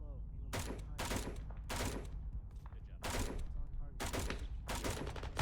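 Repeated bursts of gunfire crack out at a military training range during a machine gun position defense exercise, several loud volleys separated by short gaps over steady background noise.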